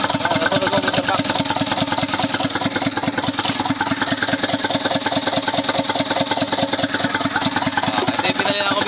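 Isuzu Elf truck with a 4HL1 diesel engine running after a replacement ECU was fitted, a loud, close, steady rapid diesel clatter that continues without a break.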